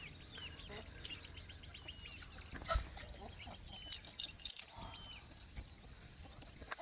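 Native Gavran rooster on a farm plot clucking in short bursts against a faint outdoor background, with other bird sounds and occasional rustling nearby.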